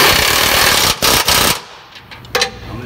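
Impact wrench with an 18 socket tightening nuts during a 4L60 transmission install on an Envoy Trailblazer, two loud close rattling bursts of hammering followed by a short third burst.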